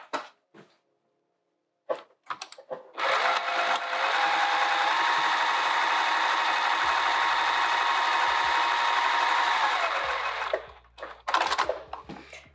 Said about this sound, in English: what we're going to do is sew from the bottom to the top